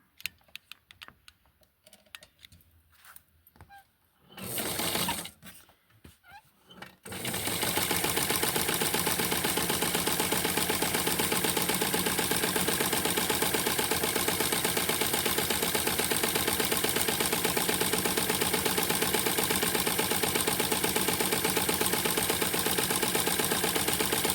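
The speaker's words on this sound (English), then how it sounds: "So I'm going to sew it around here." A sewing machine stitches around a doll-sized Francie pattern piece in fabric, threaded with a fresh bobbin. After a few seconds of quiet handling and soft clicks, a steady, loud mechanical whir runs continuously to the end.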